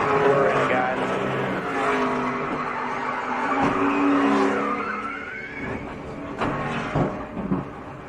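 NASCAR race cars at the 2011 Daytona 500, a car spinning with loud, drawn-out tire squeals and skidding over roaring engines, the whine sliding in pitch, then bumps and rattles near the end.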